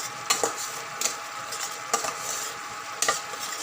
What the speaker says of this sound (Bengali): এই একটু অল্প একটু কষিয়ে নিলাম